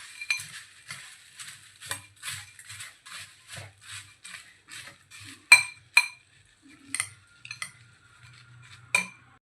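A spoon mixing sev murmura bhel with cucumber and coriander in a bowl, giving a series of irregular clinks and scraping taps against the bowl, close and clear over near silence.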